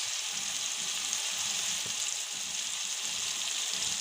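Turmeric and chili powder fry in hot oil for a coral fish curry, giving a steady, even sizzle close by with faint low bubbling underneath, continuous throughout and without talk.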